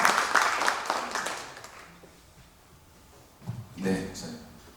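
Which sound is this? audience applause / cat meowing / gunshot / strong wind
audience applause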